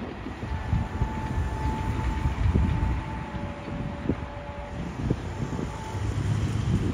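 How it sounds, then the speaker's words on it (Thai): A diesel locomotive-hauled passenger train, Thai train 258 from Nam Tok to Thonburi with Alsthom and GEK locomotives in multiple, at Nong Pladuk junction gives a steady low rumble with faint sustained tones and occasional clanks, plus wind noise. "พิเศษทักษิณอารักษ์ที่31นะครับกำลังผ่านชุมทางหนองประดุกนะครับ เพราะฉะนั้นขบวน258นะครับต้องจอดก่อนถึงประแจหมายเลข10นะครับ"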